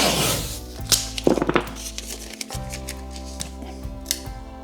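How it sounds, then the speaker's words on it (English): Masking tape is pulled off the roll and pressed down along a floor before painting, giving close crackling rips and a few sharp taps in a quiet room. "I'm going to put some masking tape down, so I don't get any paint on the floor"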